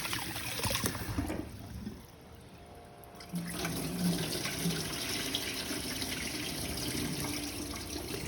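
Rice for maqlouba is washed and stirred by hand in water, giving soft sloshing and running-water sounds close by that dip briefly and then continue steadily.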